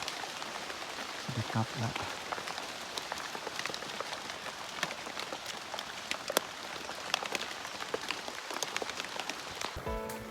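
Rain falls steadily outdoors with a dense patter of drops and scattered sharper hits. A voice speaks briefly underneath, and a louder burst of noise comes near the end.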